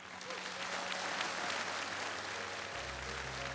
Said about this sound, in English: a special round of applause for People's Artist of Ukraine